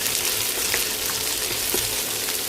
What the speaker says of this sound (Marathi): कांदा घालूया. कांदा परतून घ्यायचा.